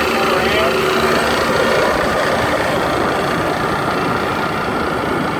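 A Trane rooftop HVAC unit runs steadily with its circuit 1 compressor on, the compressor failing; a continuous loud mechanical drone and hum holds throughout without a break.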